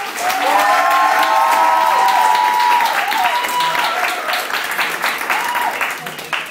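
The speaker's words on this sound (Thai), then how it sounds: "ขอเสียงปรบมือ" Sustained audience applause with some cheering at a business team recognition event, loud, dense clapping over several seconds, with a voice speaking and some background music tones audible underneath, fading slightly toward the end.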